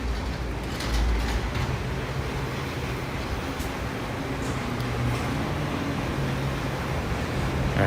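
A loud truck idling or rumbling on a Williamsburg, Brooklyn street in the evening, a heavy continuous low drone with mechanical hum, close by and steady throughout.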